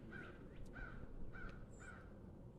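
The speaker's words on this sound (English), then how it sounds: "I don't know if you can hear the crows." Several crows caw outdoors in the background, four or five distinct calls spaced about half a second apart, moderately distant over a steady low rumble of ambient noise, with no talking.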